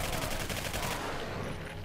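Rapid gunfire in the Singularity shooter, a quick burst of closely spaced shots for about a second that then cuts off and leaves a fading tail.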